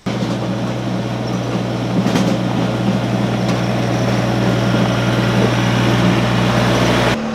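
A Kubota BX 2380 tractor grading a gravel driveway, its loud, steady engine drone running continuously with a low rumbling hum and no voices.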